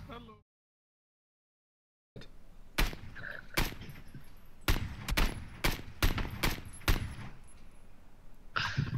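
Gunfire in PlayerUnknown's Battlegrounds sounds as a string of sharp separate shots, irregular single and paired cracks after a brief silence, fairly close and crisp with no talk over them.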